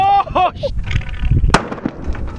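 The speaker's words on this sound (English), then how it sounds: "Yeah, that thing explode." A .50 BMG round fixed to an arrow detonates outdoors with a sharp blast at about one and a half seconds. Startled shouts come right before it, and a rumbling, noisy tail follows the bang.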